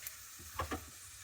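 Faint, soft sizzle of garnishes frying in oil for sweet rice puttu, with a couple of light clicks from stirring.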